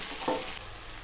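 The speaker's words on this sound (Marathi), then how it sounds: "तर मिठासोबत मी आता इथे छान भेंडी पुन्हा परतून घेते" Okra sautés with salt in a pan, giving a steady close sizzle with a brief stirring scrape near the start.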